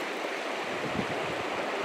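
Steady broadband rush of the Green River in Utah in winter, water flowing continuously and close by with no voices.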